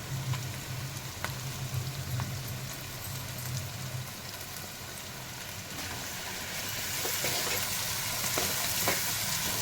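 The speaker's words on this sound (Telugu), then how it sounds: "ఇప్పుడు మనం ఫ్రెష్గా చేసి పెట్టుకున్న అల్లం వెల్లుల్లి పేస్ట్ ఒక 2 టేబుల్ స్పూన్స్ వేసుకొని దాన్ని కూడా పచ్చివాసన పోయేంత వరకు బాగా ఆయిల్లో వేయించుకోవాలి" Ginger garlic paste fries in oil for a Rayalaseema-style pulao, giving a continuous close sizzle that swells louder toward the end, with occasional stirring clicks and no talking.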